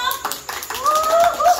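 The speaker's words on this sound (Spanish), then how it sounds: "¡Aplauso!" Family members clap during a Secret Santa (amigo secreto) gift exchange at home, a short burst of applause mixed with overlapping voices, including a child's.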